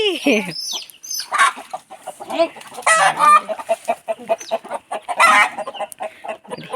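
Village country chickens and roosters, a flock with pox disease, cluck and call in a rapid, uneven string of sharp, close calls. Occasional voices are heard in the background.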